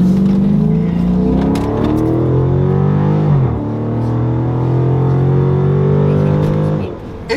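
Dodge Charger SRT 392 with a 500 hp V8, heard from inside while driving: a loud, steady engine drone with a rising and falling tone and a thin whistle over it, dipping briefly midway before climbing again.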